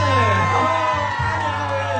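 An audience at a televised variety show cheers and whoops over music playing, a loud burst of crowd noise that stays dense for the full short moment.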